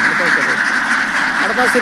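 A flock of ducks in a farm field quack in a busy, dense chorus, near and loud, with overlapping calls and a voice talking over them.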